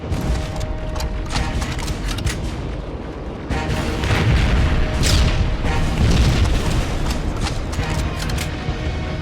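Incoming rocket explosions in Terminator: Resistance, dense loud booms and crackling blasts over a continuous roar of battle, sustained for several seconds with no pause.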